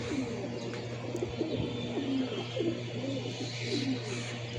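Pigeons coo steadily throughout, several birds overlapping in a low, rolling rhythm at a loft on a hot day, with constant background hum and no talk.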